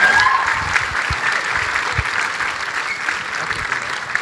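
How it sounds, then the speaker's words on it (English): An audience at a film festival awards event claps steadily as panelists return to the stage, a broad, even wash of applause with a few low thumps beneath. "let's give everybody a round of applause as they come back out again."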